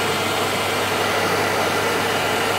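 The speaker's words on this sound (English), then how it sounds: "Get yourself a hairdryer," A hairdryer blows steadily and loudly throughout, a dense continuous rush of air used to warm a 2DS XL handheld's upper screen during disassembly, with no speech over it.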